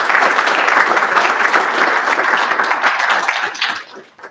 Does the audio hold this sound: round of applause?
yes